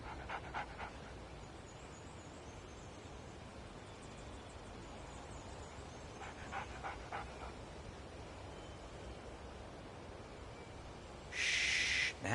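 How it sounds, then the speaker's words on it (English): In the video game Alan Wake Remastered, a dog pants and whimpers softly in short, quiet bursts over a low ambient hum, ending with a brief louder hiss. "That's a good dog."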